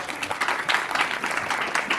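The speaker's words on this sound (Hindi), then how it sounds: "आप सभी एक बार गुरुजन के लिए जोरदार ताली बजाएं।" Applause from an audience at a school anti-addiction awareness program, honoring teachers; a dense, steady patter of many hands clapping throughout, fairly close, with faint voices mixed in.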